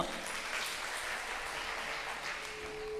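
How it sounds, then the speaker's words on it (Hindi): Applause from the audience at a live stage show, steady and fairly even, with a faint background tone and no talk. "बहुत सारी तालियां"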